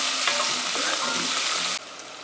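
Red peppers, Anaheim pepper, garlic and cilantro sautéing in a pan for Yemeni lamb haneeth, with a loud steady sizzle and scraping stir strokes, close up, cutting off abruptly near the end.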